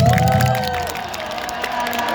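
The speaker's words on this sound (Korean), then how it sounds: "자, 이럴 때 박수, 박수, 박수," A crowd of students and spectators at a friendly Busan High vs Kyungnam High alumni baseball game claps and cheers, loud at first and then easing into lighter scattered applause.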